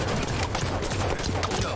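Gunfire in a Halo 5: Guardians capture-the-flag match on Coliseum, a dense continuous fusillade of rapid shots filling the moment, loud and steady with game sounds layered underneath.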